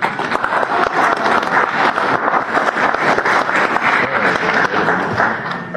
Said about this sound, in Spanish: De igual forma, un fuerte aplauso